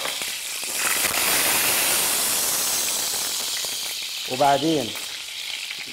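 Two spoonfuls of ghee sizzle and hiss loudly in a hot pan for taasha, a bright frying crackle that fades slightly, with a short spoken word near the end.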